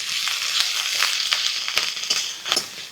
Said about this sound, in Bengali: এবার আঁশটাকে একেবারে কম করে মশলাটা কষাবো